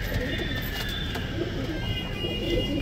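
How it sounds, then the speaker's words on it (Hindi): Soft cooing from breeding pairs of fancy pigeons, including crested and black patet birds, murmurs steadily close by over a constant background hum. "सब दोस्तों जोड़ों के कबूतर हैं"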